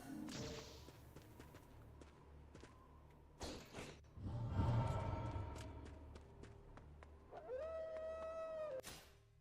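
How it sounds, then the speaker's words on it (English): Dogs in the Ninja Gaiden video game give a drawn-out howl amid sharp whooshing slashes and impact hits, with a rising whine near the end, all at moderate game volume. "Ooh, dogs jumping me."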